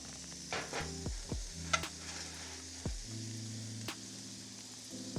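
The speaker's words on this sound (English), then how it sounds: "we really just want to get that sear on the one side" Smash burgers searing on a Blackstone 28-inch griddle, a soft continuous sizzle punctuated by a few sharp metallic scrapes and taps of a spatula, close but fairly quiet, with no one speaking.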